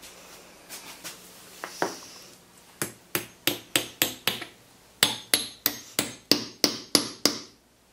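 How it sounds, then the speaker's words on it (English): Hammer driving 2.5 inch nails tight into pre-drilled holes, heard as a string of sharp, evenly spaced metallic strikes close by, a few softer taps first and then two quick bursts of about six blows each. "we're going to put them in our pre-drilled holes here and bash them in there tight"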